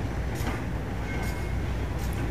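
The Argo Parahyangan passenger train rumbles steadily through Padalarang station at a moderate distance, a continuous low roar with faint metallic squeals.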